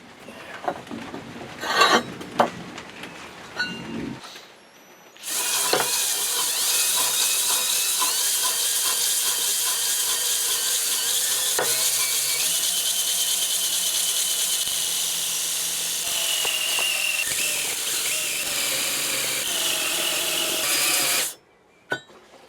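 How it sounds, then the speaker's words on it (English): Power sanding on a metal vise part for a Meier & Weichelt mobile workbench, weld-distorted areas being ground flat: a loud, steady abrasive whir runs about sixteen seconds after a few light knocks, then stops abruptly. "so I need to sand it"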